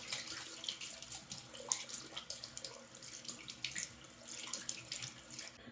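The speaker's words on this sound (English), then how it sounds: "And then I rinse." Water running steadily from a sink faucet and splashing as a face is rinsed, a continuous close, moderately quiet rush with uneven splashy surges.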